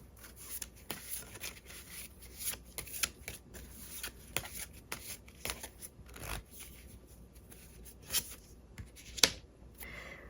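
Tarot cards being shuffled and drawn for a weekly fortune reading, giving a steady soft rustle broken by sharp, close flicks and snaps of the cards, with no voices.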